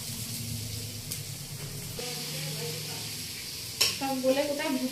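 Onions and tomatoes fry in a pan, a soft steady sizzle with a faint background hum, then a sharp clatter of stirring near the end followed by louder bubbling sizzle.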